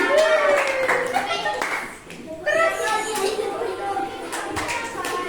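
Children clap along in a classroom during a celebratory dance in an unplugged coding lesson, scattered light claps mixed with kids' voices and a teacher talking throughout.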